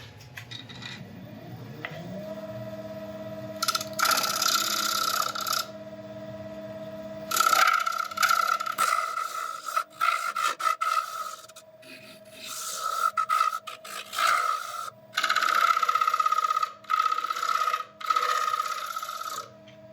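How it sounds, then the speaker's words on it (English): A scraper works an elm piece spinning on a wood lathe to take off tool marks, making loud rasping bursts in repeated strokes over a steady motor hum, with no voices. "I think I might just go in there with a scraper just to get rid of a couple of those little tool marks"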